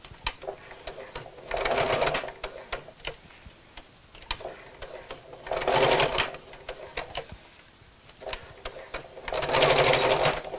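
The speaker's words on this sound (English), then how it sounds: "I'm just going to sew a little box here right in the centre" A sewing machine stitches a small box shape onto ribbon, its rapid needle chatter coming in three short runs of whirring stitching, separated by quiet ticks and handling sounds, close and moderately quiet.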